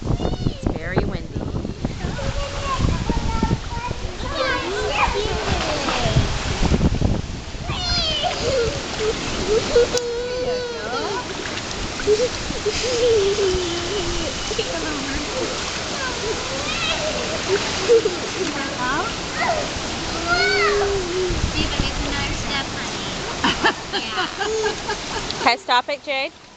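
Steady broadband wind roar buffets throughout, with children and adults talking over it.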